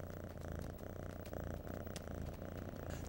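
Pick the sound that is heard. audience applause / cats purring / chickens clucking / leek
cats purring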